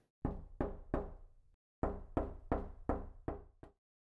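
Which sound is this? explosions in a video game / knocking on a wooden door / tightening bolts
knocking on a wooden door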